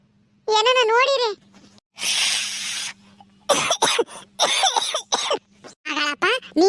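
An elderly man coughs in a village setting, a few harsh, bursty coughs spaced between voices talking over and around them.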